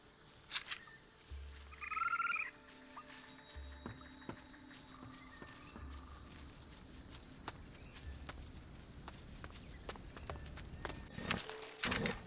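In the video game Risen 3, a frog croaks in short, low bursts spread across a ghostly ambient night soundscape with insect-like chirps, moderately close and never masked by talk.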